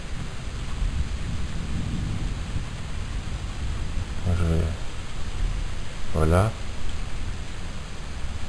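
A summer evening thunderstorm rolls through with wind and steady rain hiss, and two low rumbling thunder bursts break out midway and near the end, over a constant broadband wash; someone speaks briefly.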